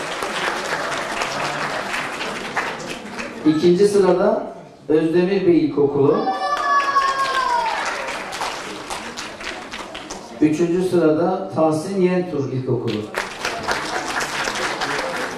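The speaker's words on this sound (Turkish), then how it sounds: "Tüm arkadaşlarımızı alkışlıyoruz, tebrik ediyoruz." An audience at a ceremony awarding schools for collecting used batteries claps steadily throughout, a dense, fairly close roar of hands while an announcer speaks over it with bursts of amplified voice.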